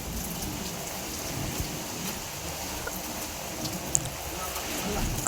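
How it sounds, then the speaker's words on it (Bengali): Steady, dense roar of heavy rain pouring down with wind, with a constant hiss of drops hitting surfaces and no letup throughout. "আমাদের এখানে প্রচুর বৃষ্টি হইতেছে, গেছে কাল রাত থেকে। অনেক বাতাস, অনেক বৃষ্টি।"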